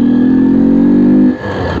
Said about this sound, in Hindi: आणि आता या टनलमध्ये आपण आपल्या या बाईकचा आवाज ऐकू.